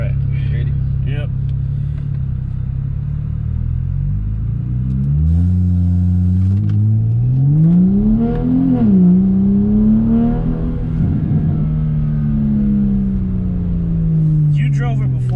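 A BMW E92 with stage 1 mods on 93-octane fuel idles with a low rumble, then its engine climbs in pitch as it revs and pulls away hard, the drone rising and falling over a sustained interior hum with people talking at times.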